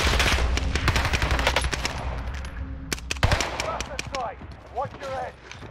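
Heavy automatic gunfire from the Warzone video game rattles in rapid bursts, loud and close at first, then thinning into scattered shots with a few fainter pops near the end, while a voice speaks briefly over it.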